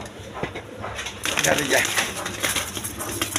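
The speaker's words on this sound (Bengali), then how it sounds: "দর্শকবৃন্দ এখানে এক পেয়ার রাসগোল্লা কবুতর আছে" A pair of black-and-white Rasgolla pigeons, a freshly paired male and female, coo in soft repeated calls at close range, partly under a voice.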